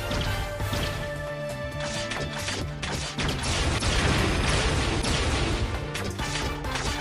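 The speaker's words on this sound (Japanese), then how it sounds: "全台場より一斉砲撃ですわ" A simultaneous artillery barrage from every battery in Shiro Project:RE, heavy booms and crashing impacts piling into a continuous, loud roar of game effects with music underneath, no let-up across the whole stretch.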